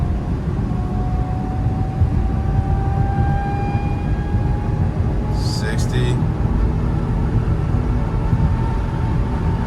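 A Ford Fusion driving straight along a road, heard as a continuous, fairly loud low engine and tyre rumble with a brief higher rattle partway through.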